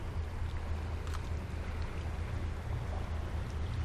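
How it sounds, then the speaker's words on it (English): A boat engine drones low and steady throughout as a boat comes into a bay in Knight Inlet, British Columbia, mixed with wind rumble, and nobody speaks. "we got another boat coming into the bay."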